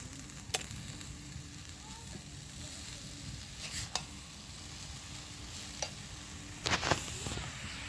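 Grated coconut stirred into melted jaggery in a pan, heard as a low, steady bubbling sizzle with occasional sharp scraping clicks of a spoon against the pan, fairly quiet and without talk.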